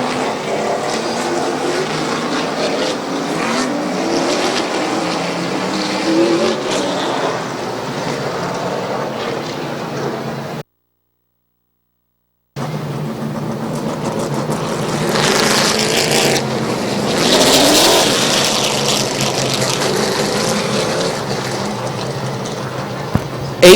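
Race cars roaring around the Midvale Speedway track during an eight-lap heat race at the fall classic, with continuous loud engine noise swelling as cars pass near, broken by a brief gap of silence.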